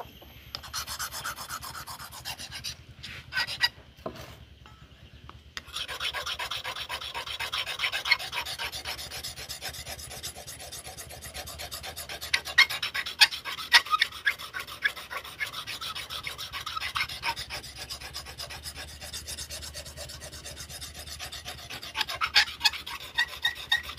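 A rubber tapping knife is honed with a sharpening tool, a steady rhythmic scraping rasp that stops briefly, then resumes continuously and close, with occasional sharper strokes.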